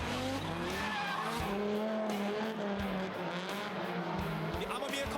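A 500-horsepower 8.3-liter V10 Dodge Viper drifts in competition, its tires squealing in long wavering shrieks over the steady engine roar, with a commentator talking throughout.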